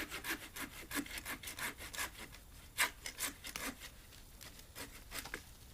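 Corona hand saw cutting through a tree branch, close up: steady rhythmic rasping strokes of the blade through wood, fairly quiet, with no talking.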